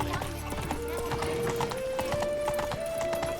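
Roach, a horse in The Witcher 3, trots with steady, close clip-clop hoofbeats while a tonal, whinny-like sound rises in steps over them and faint background sounds continue.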